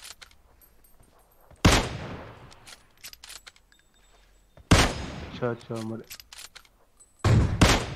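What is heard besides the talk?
gunfire from PUBG video game on Vikendi map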